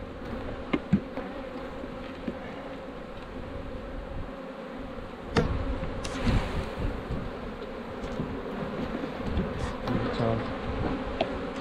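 Bees buzzing in a hive being checked while pollen substitute is fed, a dense steady drone with occasional louder buzzes of single bees passing close, continuous throughout with no talk.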